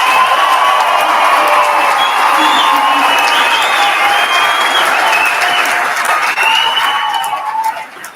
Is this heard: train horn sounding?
no